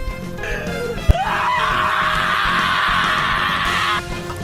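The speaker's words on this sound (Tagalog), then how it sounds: "Napasigaw ito dulot ng matinding sindak at sakit." A man screams in pain and terror in a dramatised horror story about a wakwak, a single sustained high cry lasting several seconds after a sharp impact, loud and close with no other talk over it.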